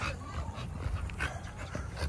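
A dog whimpers and yips in short, uneven bursts over a low, steady background rumble, fairly close and moderately loud.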